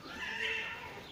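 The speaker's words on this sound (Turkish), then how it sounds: "Mahallede kedi kavgası." A loud, drawn-out yowling wail from fighting cats, one sustained rising cry lasting about a second.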